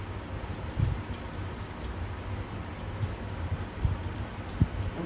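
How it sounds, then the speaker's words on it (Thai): Rain falls steadily outdoors, a dense, even hiss with a few heavier drops and patters standing out, and no voices over it. "ฝนตกใช่ไหมคะ"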